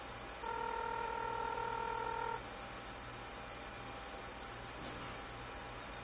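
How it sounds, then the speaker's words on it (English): A Republic Wireless beta phone places a call, sending out a steady, clear tone burst lasting about two seconds over a quiet background hum, then falling back to low hiss. "Now it's calling over to this phone."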